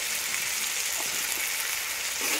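Chili powder, cumin-coriander powder and turmeric frying in hot oil, a steady close hiss of sizzling throughout, with faint stirring scrapes.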